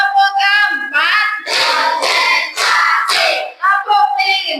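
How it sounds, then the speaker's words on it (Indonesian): A class of schoolchildren at an Indonesian primary madrasah claps along to a counted clapping chant. Unison chanting voices alternate with dense bursts of group hand-clapping, close and loud. "Tepuk satu, tepuk dua, tepuk tiga, tepuk empat,"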